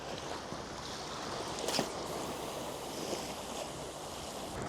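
On a cold, uninhabited island shore, wind roars steadily and waves wash in with a continuous, broad rush, plus a brief louder gust or splash partway through. No one speaks.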